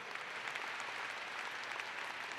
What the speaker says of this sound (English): A round of applause for passion for voting